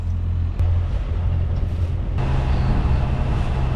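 Port Yanmar 57 diesel engine on a Lagoon 42 catamaran running steadily at about 3,000 revs while underway, a constant low drone with wind and water rush, no talk.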